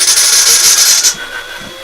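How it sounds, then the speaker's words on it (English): Drill boring holes through an Amiga B2000 computer case, a loud steady high-pitched whine for about a second that cuts off and leaves faint hiss. "Let's just drill these out."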